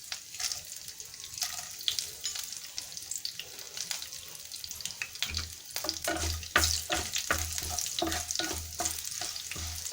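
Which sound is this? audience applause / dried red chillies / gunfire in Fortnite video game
dried red chillies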